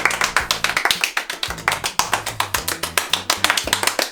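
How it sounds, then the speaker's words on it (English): Rapid, sharp claps from a school assembly, fast and rhythmic, loud and close, running continuously over a faint low musical tone in the background. "I'd like you to clap as fast as you can."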